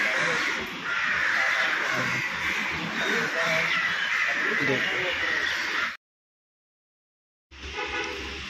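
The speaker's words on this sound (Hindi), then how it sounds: "इसलिए देख आ गए कितने सारे कौवे" Many crows cawing loudly and continuously, a dense chorus close by, cutting off abruptly before resuming briefly.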